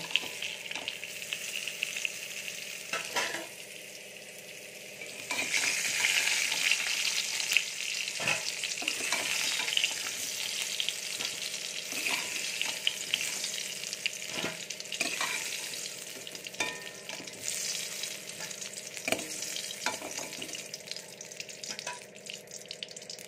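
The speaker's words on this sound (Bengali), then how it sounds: "চিকেনের আলুগুলো ভাজা হয়ে গেছে, এবারে তুলে নেব।" Potatoes for chicken curry fry in hot oil with a steady crackling sizzle, stirred now and then with soft scraping knocks, the frying swelling louder partway through and continuing alone without speech.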